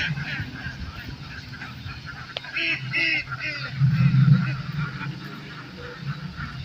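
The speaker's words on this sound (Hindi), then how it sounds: "यहाँ पर देखिए कितना बत्तख है" Several ducks quack and chatter nearby amid outdoor background noise, with a brief louder burst of calls partway through.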